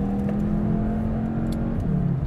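A 2023 Cupra Leon ST CUP ABT engine pulls hard out of a bend in S gearbox mode, a loud steady close drone that rises slightly in pitch and shifts briefly near the end, with no talk.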